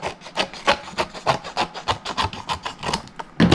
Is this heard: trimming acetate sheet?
yes